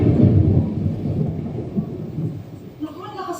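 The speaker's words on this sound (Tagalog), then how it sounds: "Naku, ang lakas ng ulan." Heavy rain with a deep rumble of thunder, loud and rolling at first and then easing off into a steady downpour, with a voice briefly heard near the end.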